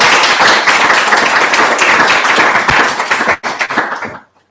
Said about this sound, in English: let's give a big applause to the curators